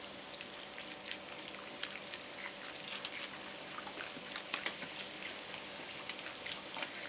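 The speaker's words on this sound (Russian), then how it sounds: "И наливаю минералку." Mineral water poured into a pot of shashlik marinade with narsharab sauce, a soft steady splashing trickle heard close up for several seconds without talk.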